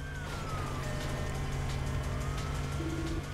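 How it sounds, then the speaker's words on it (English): A London police car siren in the Midnight Club: Street Racing video game, a faint steady wail that sits under a constant rumbling engine and road drone throughout. "that's how the police cars sound in London."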